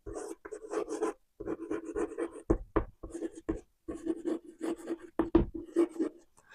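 Chalk scratches and taps on a classroom board in rapid bursts of strokes, close and fairly loud, with brief pauses between words.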